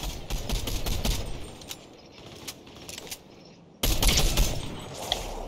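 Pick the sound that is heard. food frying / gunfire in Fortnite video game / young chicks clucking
gunfire in Fortnite video game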